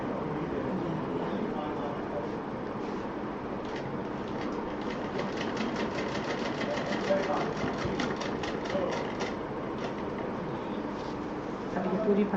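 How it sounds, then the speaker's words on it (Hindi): A sewing machine stitches piping onto a pouch, a fast rattling run of needle strokes heard a little way off under steady background noise. "कैमरे से थोड़ा दूर है सिलाई मशीन"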